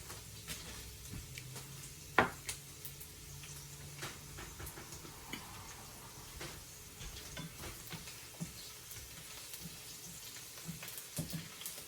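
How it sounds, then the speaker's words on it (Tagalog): Garlic fries in a pan for Filipino escabeche, a steady close sizzle with occasional stirring clinks and scrapes, no voices over it. "Medyo papulain lang natin ng konti yung bawang para masarap-sarap."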